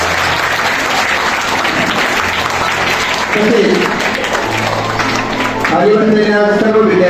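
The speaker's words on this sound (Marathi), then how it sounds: "या सर्व विद्यार्थ्यांचं सर्वांनी टाळ्या वाजवून अतिशय अभिनंदन करायचं" Sustained applause from a school audience for students after their performances at a cleanliness-themed speech competition, steady clapping throughout with a speaker's voice over it.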